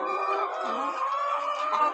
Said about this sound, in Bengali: তো সব মুরগিরা আসলে কি সুন্দর